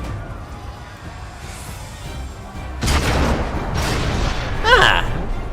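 Cannon fire in Final Fantasy XIV: two heavy booming blasts land midway through, followed by a sharp metallic crack near the end, all over low game ambience.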